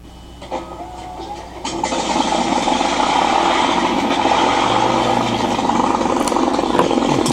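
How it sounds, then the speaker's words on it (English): Simulated P-47 aircraft engine starting from an RC model sound system: a quiet opening click, then a rising mechanical rumble that settles into a steady, moderately loud idle drone. "if I give it one click on the throttle, our engines are going to start up."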